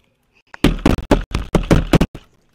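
Loud, close knocking on a door, a quick burst of about eight hard raps in an uneven rhythm, with no talking.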